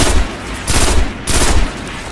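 Video game gunfire in Destiny, two loud sustained bursts of rapid shots separated by a short lull, close and dominant with no talking.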